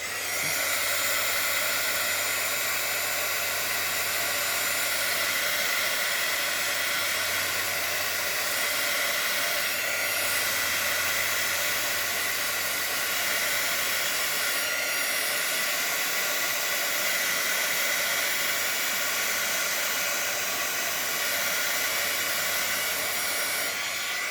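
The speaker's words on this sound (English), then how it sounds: "I'm going to take my heat tool, and I'm going to just dry this real quick." A heat tool blows steadily to dry ink on a handmade stamped card, a continuous loud whooshing hiss with a constant motor hum that runs unbroken throughout and has no talking over it.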